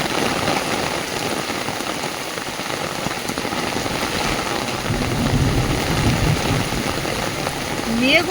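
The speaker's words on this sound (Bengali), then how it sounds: "এত পরিমাণে বৃষ্টি হচ্ছে, পুরো ধোঁয়া ধোঁয়া" Heavy rain pours down, so dense the air looks misty, making a continuous loud hiss of drops striking surfaces that stays steady for several seconds with no break.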